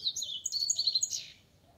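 Coleiro and papa-capim songbirds chirp in a quick, high, twittering burst lasting about a second, faint and fairly close, with no talking.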